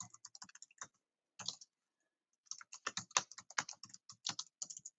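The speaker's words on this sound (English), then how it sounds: "we're going to start typing." Typing on a computer keyboard, quick bursts of close, crisp key clicks separated by a short pause, then a denser run of keystrokes.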